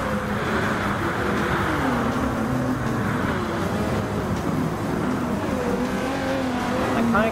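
Race cars lap Le Mans in Gran Turismo Sport, a steady engine roar with rising and falling revs through gear changes, loud and continuous.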